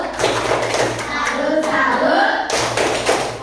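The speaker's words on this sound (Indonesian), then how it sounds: "Kasih tepuk salut." A group claps together in a short burst of patterned hand claps for a classroom salute, with voices chanting along and children talking around it.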